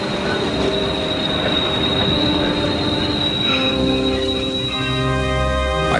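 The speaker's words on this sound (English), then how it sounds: "his funeral train slowly crossed America" A funeral train rolls slowly along the rails with a steady, loud metallic squeal from the wheels, rumbling continuously over a low bed of rolling noise, up close and unbroken.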